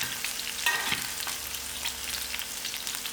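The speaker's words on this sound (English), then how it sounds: "I always like browning out my brinjal so it doesn't end up slimy." Brinjal frying and browning in a hot pan, a steady close sizzle with a brief stirring scrape near the start, no voices.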